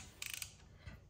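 A 13mm socket wrench ratchets on a bolt of a KTM during an oil change, a quick burst of faint clicking followed by a single soft knock.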